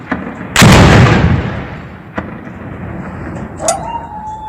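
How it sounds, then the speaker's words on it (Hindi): A heavy blast of gunfire booms out at an armed encounter site outside Srinagar, followed by a few sharper, fainter shots echoing in the distance. "एनकाउंटर की जगह से धमाके की आवाज साफ सुनी जा सकती है।"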